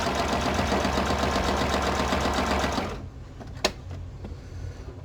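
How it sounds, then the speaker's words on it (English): Sewing machine running a steady straight stitch around the border of an embossed book cover, a rapid even mechanical whir for about three seconds before it stops and the room goes quiet apart from a single soft click. "I'm just doing a straight stitch"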